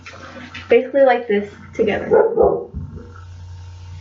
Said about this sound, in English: Sorry about the noise, the dogs are just going crazy.